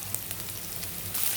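Turmeric hits hot oil already holding onions, ginger-garlic paste and curry leaves in a vadiyalu curry pan, giving a steady close sizzle and frying hiss with a brief louder flare near the end.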